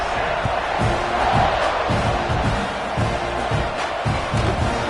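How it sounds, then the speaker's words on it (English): Stadium crowd at a college football game involving Ohio State roars continuously during a kickoff, a dense sustained wash of cheering with rhythmic thumps, while a commentator talks over it. "this crowd is feeling themselves after that last drive"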